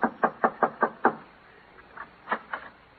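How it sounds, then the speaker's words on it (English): Knocking on a door as a sound effect in an old radio comedy show: six quick, evenly spaced raps, a brief pause, then a few softer, irregular knocks, with no voices. "Yeah, knock on the door."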